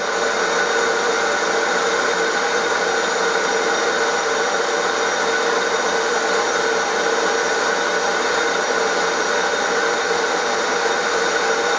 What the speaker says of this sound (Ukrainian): Так, додаємо обертів, це вже чистова обробка буде.